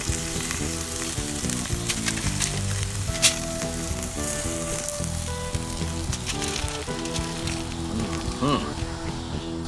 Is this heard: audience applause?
no